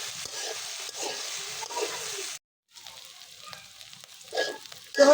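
Malabar spinach fruits fry in a pan with a close hissing sizzle and stirring, cutting out briefly to silence before the crackle resumes.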